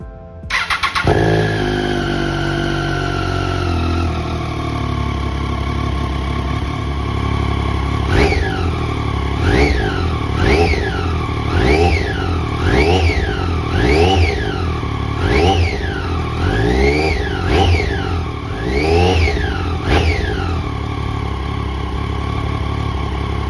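A 2012 Triumph Daytona 675R race motorcycle cold-starts nearby, cranking and catching into a loud idle, then revving sharply about a dozen times in a rising and falling rhythm before settling back.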